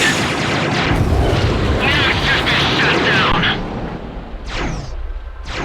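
Loud, booming meson cannon blasts from the video game Ace Combat X, with sweeping, whooshing tails, fire in close succession over a steady roar, while a voice talks.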